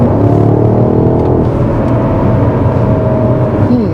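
A car engine idles with its gearbox set to Sport Plus mode, producing a steady, loud low rumble with a faint whining overtone. No one speaks.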